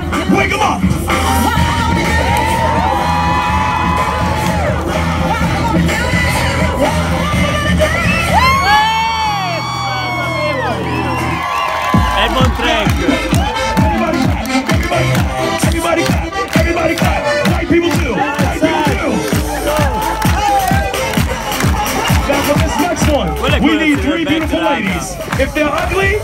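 Loud street-show crowd at Venice Beach yelling, whooping and cheering continuously over blaring music, with a brief drop-out before the noise surges back to full volume.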